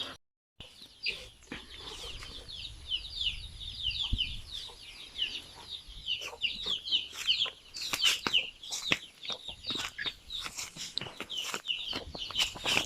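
Many chicks cheeping in a busy, overlapping chorus, with occasional soft clucks from grown chickens nearby.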